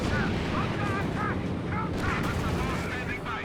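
P-47 fighter-bomber attack run in the Company of Heroes 2 video game: continuous rumbling gunfire and explosions with chirping tones overhead, while a voice speaks over the battle.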